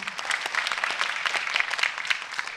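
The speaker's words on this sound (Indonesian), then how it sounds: "Terima kasih tepuk tangan buat Suci." Audience applause at an Indonesian stand-up comedy show, a steady dense clapping that fills the whole stretch, loud and close with no voice over it.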